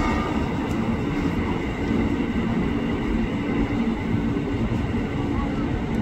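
A KRL commuter train, a JR 205 or Tokyo Metro 6000 set, rumbles through the upper level of Manggarai station with a loud, steady roar of wheels and motors, while station announcements play in the background.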